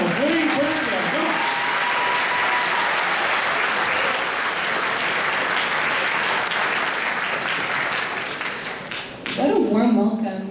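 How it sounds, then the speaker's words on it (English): A school concert audience applauds warmly at a junior spring music concert, dense sustained clapping that fades out near the end as a voice begins speaking. "I know I got you clapping a lot, but because your hands are already warm them up one more time for Miss Melina Catalano."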